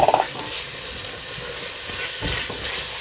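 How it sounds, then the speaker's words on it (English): Pre-cooked chickpeas go into a well-cooked masala with separating oil, sizzling and frying steadily in the pan while being stirred, with a few light clatters at the start. "the masala is really nicely cooked, and you can see that the oil has started to separate as well. And to this I'm going to add my pre-cooked chickpeas."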